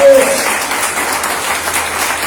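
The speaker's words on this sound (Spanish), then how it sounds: "Dale un aplauso al resucitado." A church congregation claps after a sermon about the resurrection, a brief, dense burst of applause with voices underneath.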